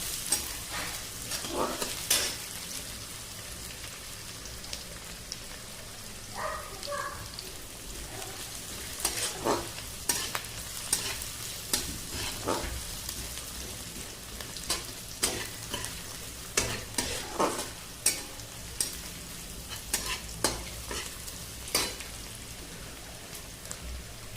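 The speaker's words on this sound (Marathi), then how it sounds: "कांदा मस्त भाजून घेऊया" Onions frying in a pan with a ginger, garlic and coconut paste for a hadga flower vegetable dish, with soft steady sizzling and repeated sharp scrapes and clinks of a spoon stirring against the pan.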